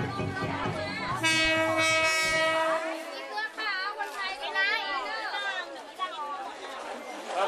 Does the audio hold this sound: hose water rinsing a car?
no